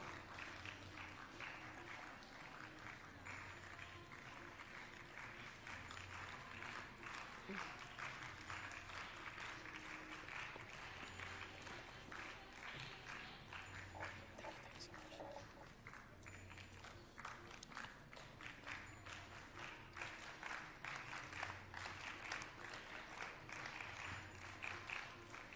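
Sustained applause from a school audience at an investiture ceremony for three students, steady clapping at moderate distance with no talk over it.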